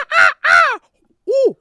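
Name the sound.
person imitating a crow call with natural voice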